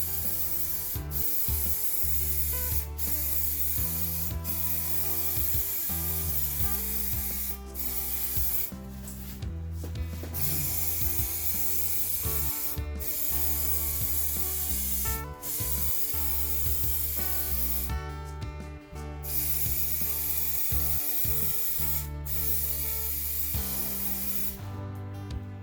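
Spray painting a car bumper: long continuous hissing bursts from the spray gun, close and steady, broken by short pauses and clicks between passes over about twenty-five seconds.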